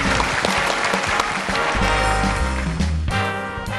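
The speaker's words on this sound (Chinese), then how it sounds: "我们掌声有请陈光标" A television studio audience breaks into loud, sustained applause to welcome philanthropist Chen Guangbiao, with music playing underneath and rising toward the end.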